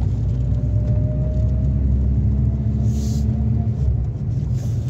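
A Renault R11 GTX engine runs at a steady, loud low rumble close by, with a few slight jerks in its running and no talk.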